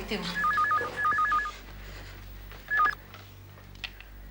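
An electronic telephone trills in two quick warbling bursts, then a short third one, close and clear over quiet room noise and voices.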